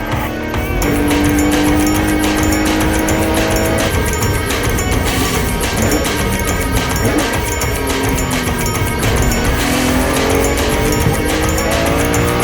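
Race cars, a V8 Corvette and a Porsche 911, battling at Donington Park: loud engines rising and falling through gear changes, with tire squeal and cars passing close, roaring continuously throughout.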